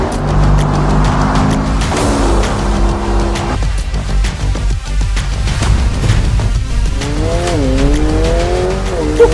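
A Corvette sports car driven hard on the winding Jebel Jais mountain road in Ras Al Khaimah, its engine loud and close, revving up and down between shifts, with tires squealing through the corners.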